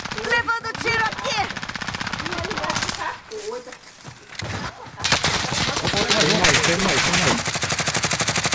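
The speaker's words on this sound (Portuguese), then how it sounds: "Levando tiro aqui." Rapid bursts of automatic gunfire in Call of Duty: Modern Warfare, close and loud, broken by a short lull, with players talking over the shooting.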